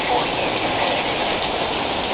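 Heavy storm rain beats down in a dense, continuous roar of hiss. It is loud and even throughout, with no pauses.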